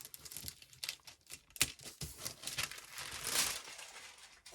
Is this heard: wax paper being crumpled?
yes